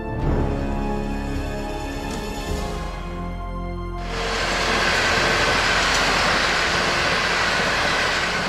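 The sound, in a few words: passing train on railway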